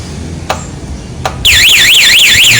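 A Nine A1 Luminous remote alarm fitted to a Honda Beat scooter gives two short taps. It then bursts into a loud, continuous warbling electronic siren that rises and falls rapidly.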